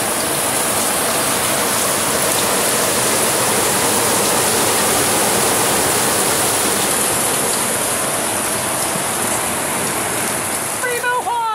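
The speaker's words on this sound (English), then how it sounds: "downpour boat wash that we're getting here in Grenada" A heavy tropical downpour hammers steadily onto a sailboat's cockpit in Grenada, a dense, loud, unbroken hiss of rain and splashing water that fills the whole stretch, with a brief voice near the end.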